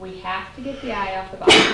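A single sharp sneeze bursts out near the end, following a man's spoken math explanation in a classroom.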